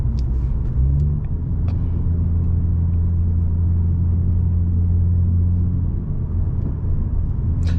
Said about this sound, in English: besides the muffler delete, obviously, it's a little loud in here